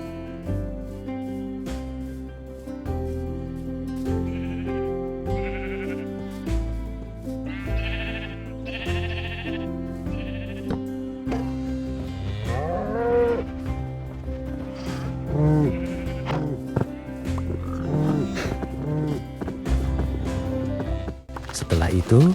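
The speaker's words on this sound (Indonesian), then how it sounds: "Sekarang saatnya memindahkan semua hewan ternakku ke rumah barunya." Sheep bleat in the Minecraft video game, several short calls scattered over steady background music, with a voice talking in the later part.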